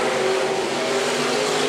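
IMCA stock cars racing on a dirt track at Phillips County Raceway, a dense steady engine roar from several cars running nose to tail, loud and continuous without talk.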